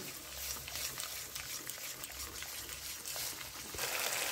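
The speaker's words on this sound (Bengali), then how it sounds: "এবার জল দিয়ে দিচ্ছি।" Water trickles and pours into frying spice paste for hilsa fish curry, a soft continuous stream with light bubbling, faint and near, with no talk.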